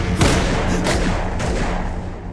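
Gunfire in a film scene: three sharp blasts at roughly even intervals ring out over a dense, roaring background of noise.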